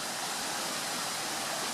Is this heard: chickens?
no